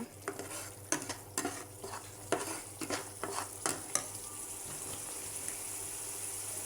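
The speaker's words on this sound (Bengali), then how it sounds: "এবার ভালো করে মশলাটাকে কষিয়ে নেব।" A spice masala of turmeric, chilli powder and a splash of water is fried and stirred in a pan, with quiet scraping strokes in an irregular rhythm over a low, continuous sizzle that settles into steady frying, no talking.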